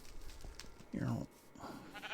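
A single short, wavering sheep bleat from Minecraft rises briefly over a quiet, murmuring game background.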